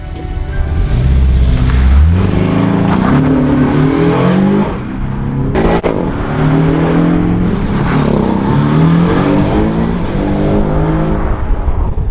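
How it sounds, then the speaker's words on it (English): A Porsche 718 Boxster S four-cylinder turbo engine in sport mode revs hard, its loud rasping note climbing through several gear changes with brief dips between upshifts, close and dominant. "let's just have another listen to this 4-cylinder turbo motor"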